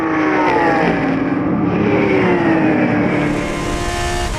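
Race cars in a Roscar 360 circuit race, including a Lamborghini Super Trofeo and Renault RS01, roar loudly past under braking, engine notes sliding down in pitch, one car fading as another rises close behind.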